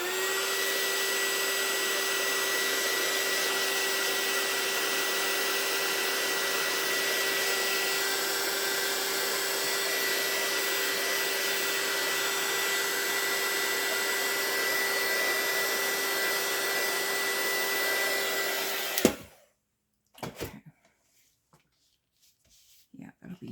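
A hair dryer blows steadily on craft paper for about nineteen seconds, a loud, constant whirring roar with a steady whine, then cuts off, followed by a few soft handling sounds.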